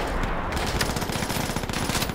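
Dense machine-gun fire and rapid gunshots from a World War II battle in Call of Duty: World at War, a loud continuous rattle of automatic bursts filling the whole stretch with no pause.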